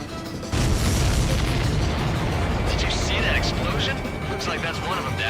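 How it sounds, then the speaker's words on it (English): A deep booming explosion erupts in Ace Combat 7 after a brief lull, followed by a sustained roar of rumbling debris and jet noise, with radio chatter over it. "Did you see that explosion?"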